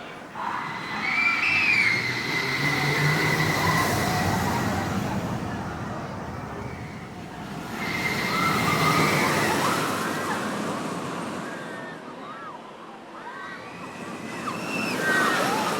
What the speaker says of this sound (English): Our first ride on the newly rebranded Flash Vertical Velocity